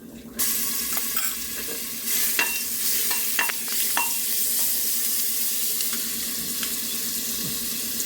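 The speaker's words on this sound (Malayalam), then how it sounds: "ഇതിൻ്റെ പച്ച മണമൊക്കെ മാറുന്നിടം വരെ ഒന്ന് ഇളക്കി കൊടുക്കണം" Ginger garlic paste fries in a pan with a steady close sizzle while a spoon stirs it, giving scattered scraping clinks against the metal. There is no talking.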